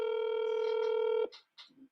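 Phone dialing to call someone named Maria: a steady multi-tone dial or DTMF tone holds for over a second, then cuts off, followed by a few short, quieter beeps.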